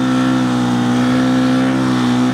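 A motorcycle pulls away hard in third gear, its engine close and loud. The strong harmonic drone climbs steadily in pitch as it accelerates, with no speech over it.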